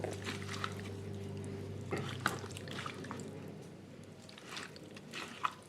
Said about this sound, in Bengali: ভালো করে সমস্ত মাছগুলোকে এটা মেখে নেব।